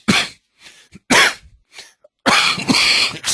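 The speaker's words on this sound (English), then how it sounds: "I have this cough and I've taken antibiotics" Several sharp, harsh coughs come in a broken series, loud and close, ending in a longer burst of hacking coughs, all from someone with a lingering chest cough.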